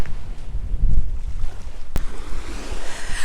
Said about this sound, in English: Now, I'm saying that there is a cold wind down here.